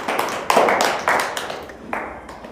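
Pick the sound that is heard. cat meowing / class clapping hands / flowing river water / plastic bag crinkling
class clapping hands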